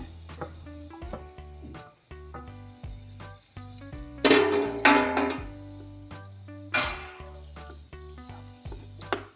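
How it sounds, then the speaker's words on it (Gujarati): Sweet potato mash roasting in melted ghee on a stovetop, giving a steady soft sizzle and fry with repeated stirring and occasional louder scrapes of a spoon against the pan. "એમાં આપણે આ શક્કરિયાનો જે માવો તૈયાર કરેલો છે એ માવાને એમાં શેકવાનો છે"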